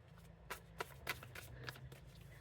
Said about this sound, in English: while I shuffle the cards and they pop out